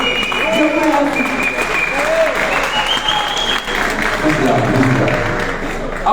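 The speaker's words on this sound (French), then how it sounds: "Applaudissez-la s'il vous plaît." An audience at a conference of African speakers in Paris breaks into sustained applause, a dense, even clatter of many hands that holds steady throughout, with a voice speaking over the clapping.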